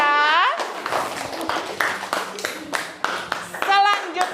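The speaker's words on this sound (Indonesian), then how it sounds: "silakan berikan tepuk tangan dulu untuk kelompoknya Resya" A class of children claps in a classroom, a burst of uneven applause that runs for a few seconds, with young voices calling out at the start and end.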